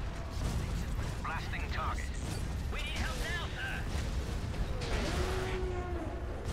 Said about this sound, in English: Get all guns firing!